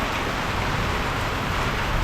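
A heavy, unseasonal downpour with hail drums steadily on surfaces outdoors in farm country, a thick continuous roar with no talking.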